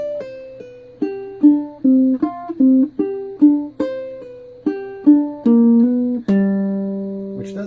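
Ukulele lick on the top string, played with pull-offs and slides: a quick run of bright plucked notes with gliding pitch changes, ending on a ringing held chord, heard alone and close.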